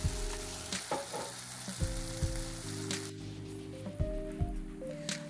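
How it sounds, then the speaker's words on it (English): Fritters frying in about a quarter inch of oil in a pot, a continuous close sizzle and crackle with scattered pops and stirring clinks. "are nicely frying. We are going to allow it to fry for about 2 to 3 minutes on each side"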